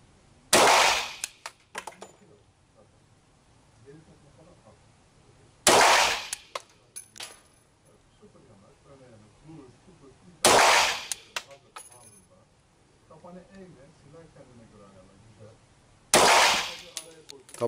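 Walther PPS compact pistol fired at a range, four sharp, loud single shots spaced several seconds apart, with quiet handling sounds between.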